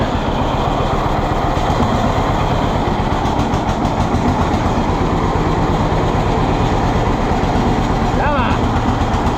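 A 1948 John Deere B tractor engine runs loud and close with a steady, rapid chugging beat that never lets up, and a brief voice cuts in near the end.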